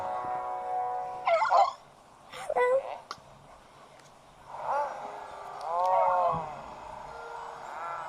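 Cat in the video game Luigi's Mansion 3 letting out a few short growling roars in separate bursts, followed by a longer, drawn-out roar, over faint background game music.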